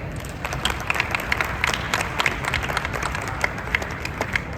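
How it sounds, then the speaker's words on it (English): Audience applause fills a conference hall at a fintech event in Las Vegas, a steady patter of many hands clapping at moderate volume for several seconds without speech. "So give her an applause, please."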